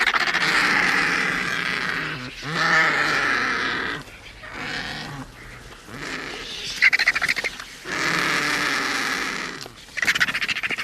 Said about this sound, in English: And here are the vultures.